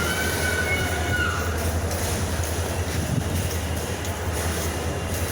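A train at the large, multi-platform Chattogram railway station sends up a loud, continuous rolling rumble with faint clatter and a brief high squeal early on, steady and fairly close throughout.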